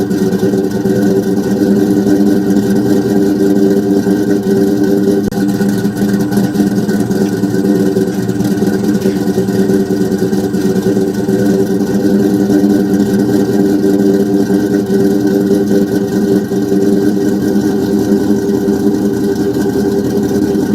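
Cammed 4.6 Ford Mustang V8 idling loud and steady up close, a lumpy continuous rumble that holds throughout with no talk.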